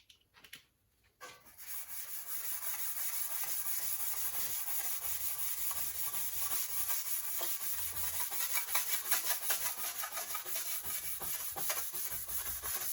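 A grey Scotch-Brite pad with WD-40 scrubs a body panel on a Hayabusa-powered Mini, giving a steady, close, abrasive rubbing hiss that starts after a brief pause and continues without talk.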